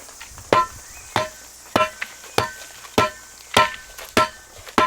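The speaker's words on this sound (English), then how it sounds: "I'm just going to stand up on the bag and I'm going to give it that second tamp" Eight heavy, evenly spaced thuds of a filled earth bag being tamped down firmly, each a sharp dull impact about half a second apart, close by.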